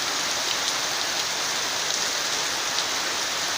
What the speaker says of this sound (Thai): ฝนตกครับ ดูฝนตก